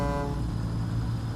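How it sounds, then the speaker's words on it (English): A truck horn gives a short, deep, foghorn-like blast at the start, then fades into steady low engine and road rumble. "Oh, the foghorn sounds."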